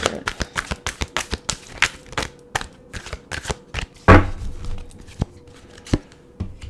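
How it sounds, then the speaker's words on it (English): Rapid riffling and tapping of a tarot deck being shuffled, a quick run of crisp snaps with one louder slap partway through, close and dry. "One more shuffle, and then we'll start laying them down."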